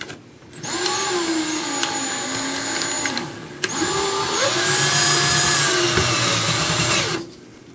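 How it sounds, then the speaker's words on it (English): A power screwdriver drives a screw into a pilot hole while mounting a Venetian blind bracket, giving two sustained whirring motor runs of about three seconds each, with the pitch shifting as the screw tightens. The sound is close and steady, with no talk. "I then take the screwdriver, come up to my pilot hole"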